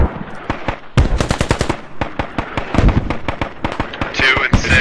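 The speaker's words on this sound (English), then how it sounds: "Shift the mortars, left one, send another six." Rapid bursts of weapon fire in a 40v40 squad shooter game with insurgent mortars hitting a British base: sharp repeated cracks and thumps, loud and close, tightly clustered in volleys.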